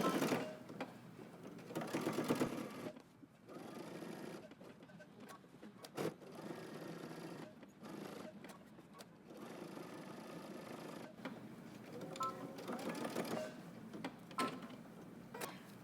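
A sewing machine stitching close to the edge of a pocket on a pair of pants, with a steady rapid mechanical whir broken by short pauses and restarts, heard close and fairly quiet.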